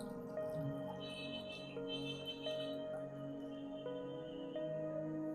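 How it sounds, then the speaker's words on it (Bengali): Water is poured into a glass beaker, a faint, soft trickle and splash that runs steadily for about five seconds. "যখনই আমি এই বিকারটার ভেতরে জল ভরে দিলাম"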